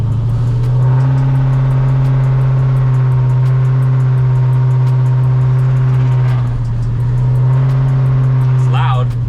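A 1957 stepside truck with an LS3 V8 and a choppy cam idles loudly and steadily up close, its lopey rumble constant throughout with a faint high whine near the end.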